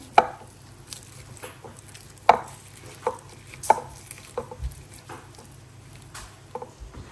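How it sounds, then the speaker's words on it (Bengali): Garlic and green chilies crushed by hand for a bharta, heard as a few sharp, close squelching cracks and soft scattered taps with quiet gaps between them. "প্রথমেই তো রসুন আর কাঁচামরিচ হাত দিয়ে এরকম করে"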